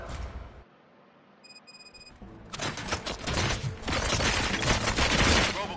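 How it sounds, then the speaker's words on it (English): Gunshots crack out in a dense, loud burst of rapid overlapping shots after a short near-silent pause with faint ticking. "Gunshots? What's going on?"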